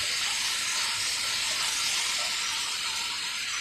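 Two small spoons of red chili powder sautéing in hot oil in a pan, producing a steady, even hiss with no talking.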